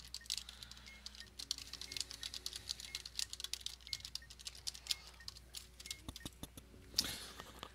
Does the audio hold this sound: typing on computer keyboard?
yes